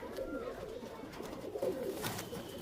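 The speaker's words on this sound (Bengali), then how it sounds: "এই তোমার এই পায়রা দুটো ছেড়ে দেখালাম তোমাদের" A pair of pigeons being released, with soft, low cooing and fluttering close by, continuous over a few seconds.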